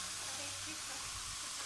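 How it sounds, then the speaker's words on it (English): Chicken sausage sizzles in a skillet, a steady, close, even hiss of frying with no clear talk over it. "You can hear that sizzle."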